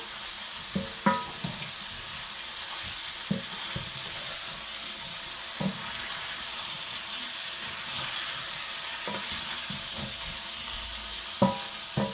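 Veal paupiettes dusted with flour sizzle steadily in a hot pan while being stirred. A spoon scrapes and taps against the pan now and then over the constant hiss.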